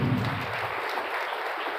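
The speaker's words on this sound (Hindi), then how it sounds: "उनकी लिए भी आपको जोरदार तालियां बजानी" Applause from an audience at a physiotherapy college function: a dense, steady wash of many hands clapping at an even level for its whole length, with no talking over it.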